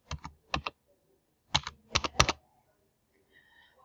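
Short bursts of keystrokes on a computer keyboard, close and clear, coming in quick clusters with brief pauses between them in an otherwise quiet room.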